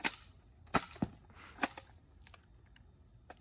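A Dart Zone Pro MK 1.2 blaster fires foam darts in a handful of sharp, irregularly spaced snaps and clacks, close and fairly quiet, with faint mechanical handling noise between shots.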